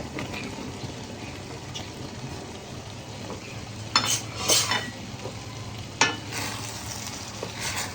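Small fish curry simmers in a pan on low heat with a soft steady sizzle, as tomatoes go in with a few brief clatters and stirring scrapes.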